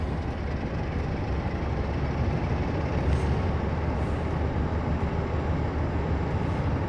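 Class 47 diesel locomotive in a train simulator on the East Coast Main Line, a steady broad engine roar with rail rumble throttling up, continuous and fairly loud, with no speech.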